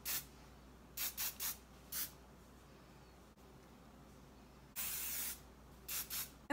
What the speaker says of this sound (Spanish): Aplico el spray.